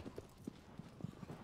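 Horse hooves clip-clop in an uneven trotting rhythm across the ground in Shadow of the Colossus, a run of soft, close thuds that sounds like a restless mount.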